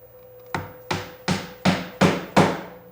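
A hammer drives a wooden dowel through oak with six sharp, evenly spaced knocks, each ringing briefly, getting slightly louder and closer together, near and clear with no talking.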